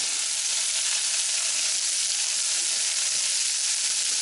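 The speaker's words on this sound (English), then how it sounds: "after a few minutes, you want to add one large minced shallot to that" One large minced shallot fries in a pan, giving a steady, close sizzle with a continuous bright hiss and no voices.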